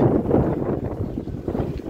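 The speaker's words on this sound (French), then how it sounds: "j'espère que vous m'entendez bien avec le vent" Steady low rumbling wind buffeting a microphone outdoors beside a Peugeot 306 rally car, loud and continuous throughout with no voices.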